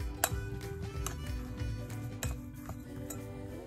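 A metal spoon clinks and scrapes against a pot while stirring cooked rice with cilantro and lime, producing soft intermittent taps and rattles in a quiet kitchen.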